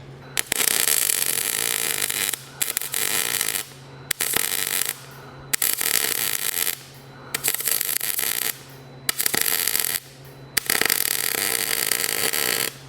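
Wire-feed welding on a rat rod crane: a loud, steady crackling sizzle in several bursts of one to two seconds each, separated by short silent pauses as the arc starts and stops.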